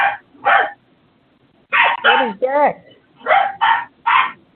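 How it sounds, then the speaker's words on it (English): A dog barks repeatedly near the microphone in bursts of two or three loud barks, with someone talking between and over them. "my dog is going crazy"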